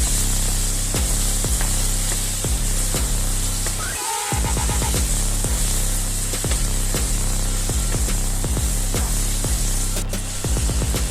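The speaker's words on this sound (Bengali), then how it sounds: "এবার হলুদ গুঁড়োটাও আমি ভালো করে মিশিয়ে নেব। সবকিছুর সাথে ভালোভাবে মিশিয়ে দিচ্ছি।" Turmeric powder is stirred into spices in a hot pan, with steady rhythmic scraping strokes repeating over a constant loud sizzling hiss.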